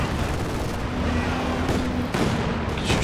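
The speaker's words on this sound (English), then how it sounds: "Oh, he's using the creeping barrage as well." A creeping artillery barrage in Company of Heroes 2 rumbles as a dense, continuous roll of distant blasts and booms, steady and loud throughout with a few sharper impacts toward the end.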